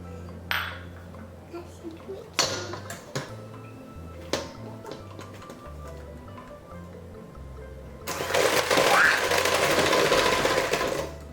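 An electric mixer works anise cookie dough for Italian anise cookies. Scattered clinks and ticks of utensils and bowls come first, then the mixer starts with a loud, steady whirring drone that continues to the end.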